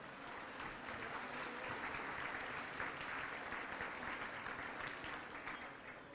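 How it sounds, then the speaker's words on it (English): A gala audience applauds steadily for several seconds, a dense, even wash of clapping from a large crowd, heard at a modest level with no talking over it. "Let's give them a round of applause."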